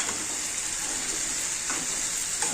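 Prawns from the fridge sizzle and crackle steadily in a hot pan, with faint stirring clinks and no talking.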